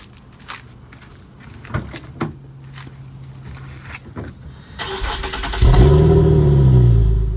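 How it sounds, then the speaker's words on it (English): A car on a road trip toward Yellowstone starts with scattered knocks and movement sounds, then an engine rises and revs to a loud, steady drone near the end. "Johnny is driving them to Yellowstone"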